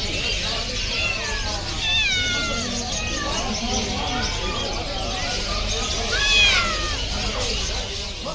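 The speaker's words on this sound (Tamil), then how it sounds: "சொல்லு மியாவ் சொல்லு." A cat meows repeatedly at a busy pet market in Kuwait, its cries rising and falling over steady crowd noise and murmuring.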